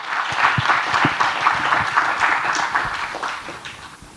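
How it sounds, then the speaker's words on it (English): A lecture audience applauds, a steady wash of many hands clapping at moderate distance that fades slightly near the end. "Let's have another round of applause."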